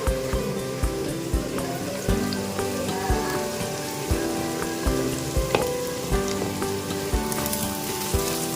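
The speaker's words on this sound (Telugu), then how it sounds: "ఉల్లిపాయలు జస్ట్ ఒక గోల్డెన్ బ్రౌన్ కలర్ అవి వచ్చేదాకా కొంచెం ఫ్రై చేసుకుంటే సరిపోతుంది" Sliced onions and green chillies fry in hot oil for a Kerala-style fish curry, with a continuous close crackling sizzle and regular soft stirring knocks throughout.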